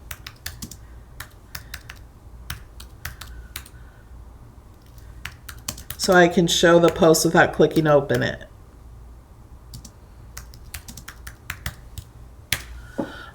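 Clicks from typing on a computer keyboard run throughout, some isolated and some in quick bursts, while someone speaks briefly in the middle.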